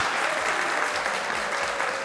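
Steady applause from an audience, a dense wash of clapping that holds at an even level for about two seconds with no voices on top.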